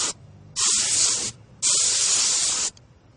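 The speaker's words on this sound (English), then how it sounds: "use your can of air to blow through the fins" A can of compressed air blows dust out of the fins of a computer case fan in two sharp, loud hissing bursts, the first under a second long and the second about a second, separated by a short pause.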